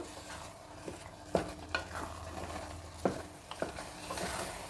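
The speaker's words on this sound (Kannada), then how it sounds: "ಮಸಾಲೆನೂ ಒಂದು ನಿಮಿಷದಷ್ಟು" Ground masala for field bean gravy sizzles softly in a pan while a spoon scrapes and stirs in occasional sharp strokes.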